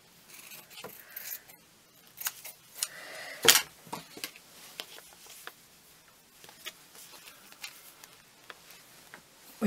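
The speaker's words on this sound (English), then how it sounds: "Let's just cut a snippet off." Scissors snip a small piece off a paper craft flower, with soft crisp cuts and light rustling of paper and card, close and quiet, plus a few scattered small taps.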